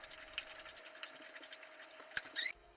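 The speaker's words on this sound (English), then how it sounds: "I finish the sewing by covering the top" A sewing machine stitches kayak sail cloth in a steady, fine rapid patter at moderate level, closing with a brief louder rattle just before it stops.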